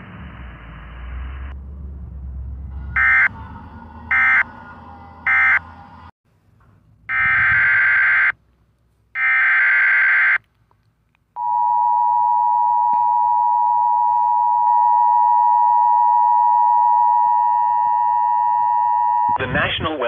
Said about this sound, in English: this has been a test of the NOAA Weather Radio Warning Alarm and EAS signal